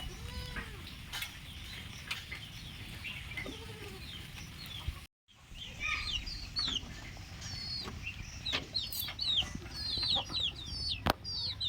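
Backyard chickens, including a hen with two chicks, cluck repeatedly close by, with thin high chick peeps scattered throughout and a brief pause partway through.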